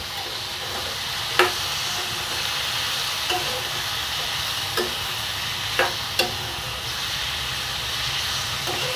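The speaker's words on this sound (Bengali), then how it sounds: "এটাকে আমি সুন্দরভাবে নেড়ে চেড়ে মিক্স করে দেব" Yardlong beans and potatoes with salt and turmeric stirred in a sizzling pan, a constant frying hiss broken by a few sharp scraping clicks of the spatula, no talk.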